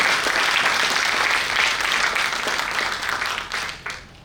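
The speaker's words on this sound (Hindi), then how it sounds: "तो एक बार जोरदार तालियां बजाइए बानाई" Enthusiastic audience applause during a personality and productivity seminar, a loud continuous burst of clapping that holds steady and then begins to taper off toward the end.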